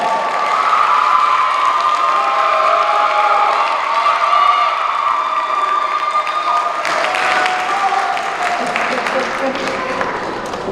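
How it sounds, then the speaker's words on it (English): A crowd at a Job Corps graduation ceremony applauds the graduates with steady, full clapping and scattered cheers that swell partway through. "So let's give our graduates another hand clap."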